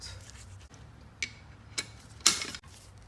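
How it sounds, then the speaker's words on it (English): A torque wrench clicks while tightening a lug nut on a jacked-up Tesla Model 3, with a few crisp ratchet clicks and one final sharp snap, close and clear over quiet background, with no talk. "Tighten up your lug nut."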